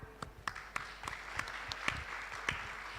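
Audience clapping at a women achievers conference and awards event, a broad wash of many hands with sharper individual claps standing out, steady and moderately loud for the whole stretch with no talk.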